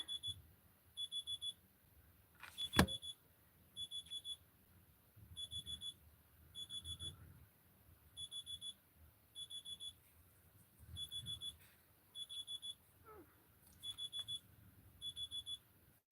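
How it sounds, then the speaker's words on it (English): An alarm goes off in a crafting room, repeating short bursts of high beeps about once a second, with one sharp knock early on and some faint handling noise between the beeps. "turn off that alarm because it's not going to turn off"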